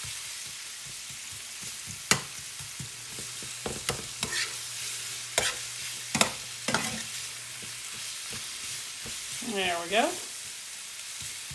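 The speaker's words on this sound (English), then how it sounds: "we're going to add our marinade to deglaze this pan" Marinade hits a hot pan over medium-high heat and sizzles steadily, broken by clinks and scrapes of stirring. Someone speaks briefly over it.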